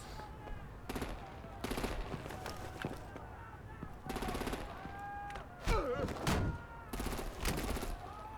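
Rapid bursts of gunfire and heavier artillery-style blasts from Batman: The Enemy Within, repeating in loud clusters across the scene with shouted voices and a tonal whine between volleys.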